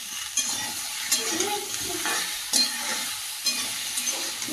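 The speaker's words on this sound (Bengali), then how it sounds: "ওটা চামচ দিয়ে ঘেটে দাও" Spoon stirring Maggi noodles in a pot, soft scraping and sloshing with a few sharper metallic taps against the rim, quiet and close, with no talking.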